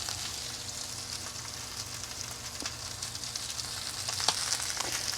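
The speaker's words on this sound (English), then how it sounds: "They'll still sear." A strip steak sears in a hot pan with rosemary, giving a steady, close hiss and sizzle with small crackles and pops scattered through, and no talking.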